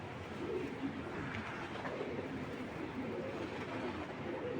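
A large, fit racing pigeon coos softly against a steady wash of background noise, with faint rumbling beneath and no voices.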